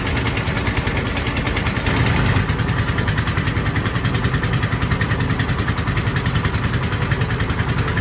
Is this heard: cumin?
no